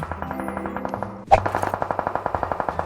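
Rapid automatic gunfire in the mobile battle-royale game PUBG Mobile: a steady, close run of evenly spaced shots, with one louder crack partway through before the rhythmic bursts resume. No one speaks.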